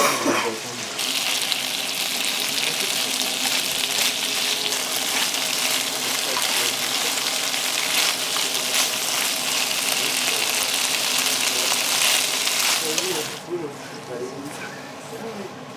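Asparagus, already briefly boiled, stir-fried in a pan with squid, giving a steady loud sizzle throughout that drops off near the end.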